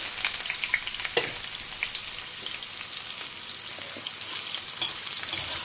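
Lentils and bitter gourd fry in a pan with a crackling, spattering sizzle, close and busy, with scattered sharp pops and the scrape of stirring running through it.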